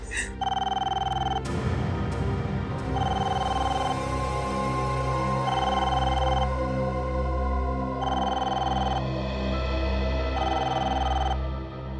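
A telephone rings over and over in a steady on-off pattern, loud and close, above a low continuous background drone.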